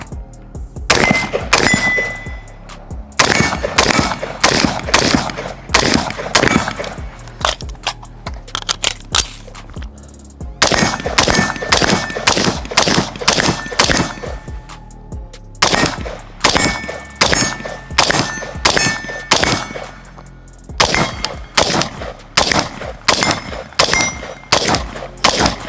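Rapid bursts of AR-15 rifle fire with 5.56 ammunition in repeated strings, each shot sharp and loud, with bright metallic rings from steel targets struck downrange ringing out between and after the shots.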